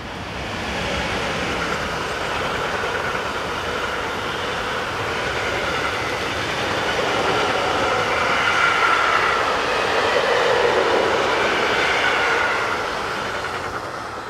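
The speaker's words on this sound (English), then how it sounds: "we see 185012 powering train 51236, the 1542 from Seelze to Oberhausen Osterfeld" Locomotive 185012 hauls freight train 51236 past Seelze, a steady rolling roar of wagons with clattering wheels that swells slightly mid-pass, continuous and fairly close, with no voices.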